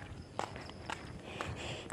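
Footsteps of a person walking along a street late at night in Singapore, four soft, evenly spaced steps against a faint ambient background.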